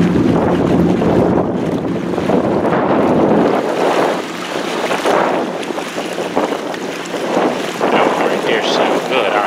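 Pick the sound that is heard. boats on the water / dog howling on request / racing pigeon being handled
boats on the water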